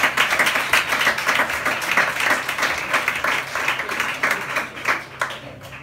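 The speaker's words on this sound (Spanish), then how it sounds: "Aplausos, muchas gracias." A concert audience at the Libertad 8 venue in Madrid claps steadily in dense, close applause that gradually thins and softens toward the end.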